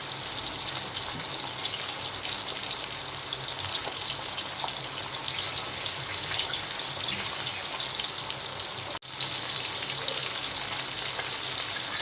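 Ribbonfish from Kasimedu fries in a pan of oil over a low flame, making a continuous, even sizzle that stays close and steady throughout, with no voices.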